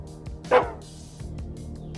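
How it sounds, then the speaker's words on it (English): A small white dog in the game Psychopomp gives a couple of short, sharp barks with one louder yip in the middle, close and clear. "It's a small white dog."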